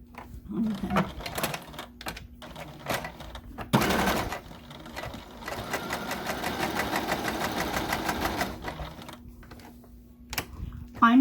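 Sewing machine stitching fabric for a sunglasses case, a steady mechanical whir running for several seconds after a burst of clatter, with a short pause before and after.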